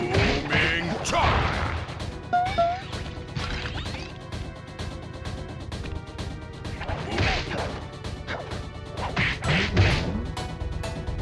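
Booming chop attacks land during a boss fight in the PS2 game Sly Cooper and the Thievius Raccoonus, a dense run of crashing whacks and swooshes over steady game music and effects for about eleven seconds, with a voice shouting attack names among them.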